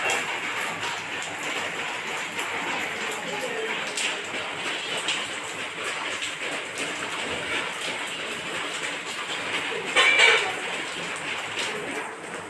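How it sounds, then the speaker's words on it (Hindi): Steady rain hisses softly and continuously at moderate distance, an even wash of patter with a brief louder burst near the end. "एंजॉय करें बारिश को।"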